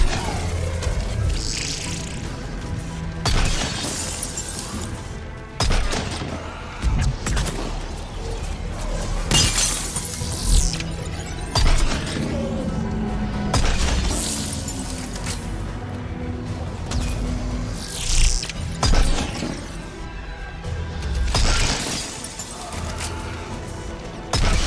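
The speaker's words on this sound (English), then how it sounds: "I do love this rifle. Need to keep scoring headshots with it." Rifle gunfire in Mass Effect 3 during a Terra Termina session: repeated sharp, loud cracks with shattering and crashing debris, spaced irregularly over a busy game-combat background, with some faint talk.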